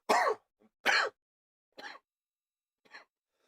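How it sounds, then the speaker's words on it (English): A person coughing a few times in short, dry bursts, close and alone with quiet gaps between, the later ones softer. "a bit of a cough."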